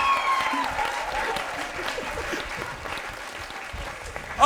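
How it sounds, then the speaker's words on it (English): An audience applauds improv comedy performers at the end of a scene, with dense, sustained clapping from a crowd and a few voices cheering and calling out over it. "give them a round of applause"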